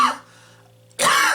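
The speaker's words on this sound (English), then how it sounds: "I still have the COVID cough" Two bursts of coughing from someone still recovering from COVID, loud and close, with a harsh first cough and a longer, stronger second burst after a brief quiet pause.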